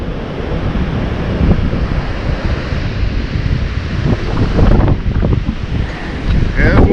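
Strong wind blows across a northeast Florida beach during surf fishing, a loud continuous rushing roar buffeting the microphone, with ocean surf mixed underneath and a brief muffled voice near the end.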